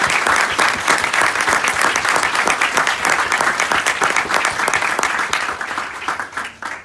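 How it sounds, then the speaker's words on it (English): Graduating LL.M. students and guests at the University of Texas School of Law ceremony give their professors a dense, sustained round of crowd applause, loud and steady throughout, tapering slightly at the end. "I kindly ask my LL.M friends to give an affectionate applause to our great professors"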